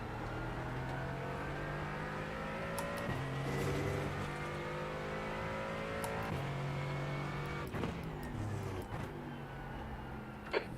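A rally race car in a WRC video game roars past with a sustained engine drone, climbing through revs and dropping at several gear shifts. It is loud and continuous, with a sharp click near the end.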